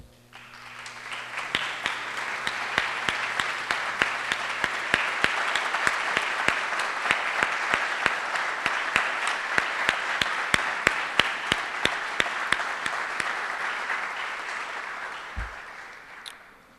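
Sustained applause from a standing audience honoring police and fire department members at a 9/11 remembrance ceremony in Brooklyn, steady dense clapping lasting about sixteen seconds with a few sharper individual claps and a brief low thump near the end.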